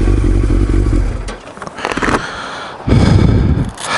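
A sport motorcycle, likely a 600-class bike, roars past nearby, its engine loud through the first second, fading, then surging again and trailing off.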